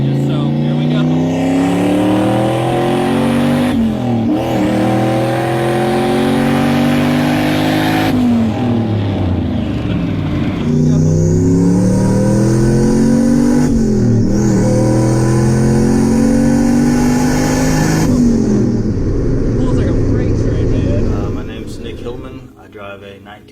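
A 1983 Toyota Corolla station wagon with an iron-block LQ4 6-liter V8, LS6 intake and custom cam revs hard through repeated rising pulls and gear shifts, loud and close, before fading out at the end.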